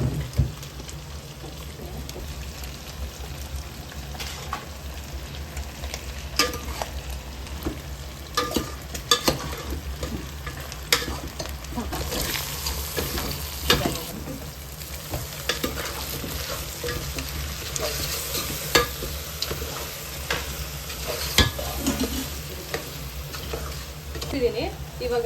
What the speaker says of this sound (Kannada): ಚೆನ್ನಾಗಿ ಕಲಿಸೋಣ.